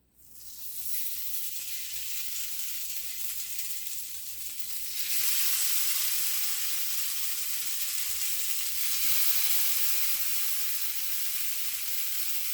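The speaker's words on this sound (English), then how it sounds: "it's time to put my meat in the grilling pan" Meat sizzles steadily in a greased grilling pan on a stovetop, a loud continuous hiss that swells partway through as more pieces go in, with no talking.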